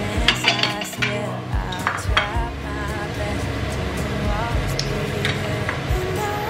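Mussels being added to a seafood paella pan, with clattering shells and metallic clinks against the pan over a steady cooking hiss and faint background music, close up.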